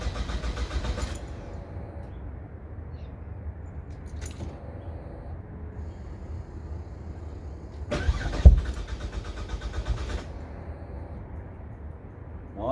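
A turbocharged Ford FG Falcon engine cranks on the starter in short bursts, loud and close, with a quiet idle-like rumble in the gaps between attempts.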